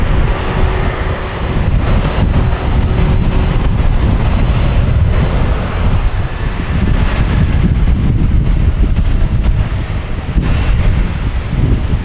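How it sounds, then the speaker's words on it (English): A Life Flight of Maine medical aircraft arrives at Boston Logan Airport, its engine roar loud and steady throughout, mixed with gusty wind buffeting the microphone. "Life Flight of Maine coming in."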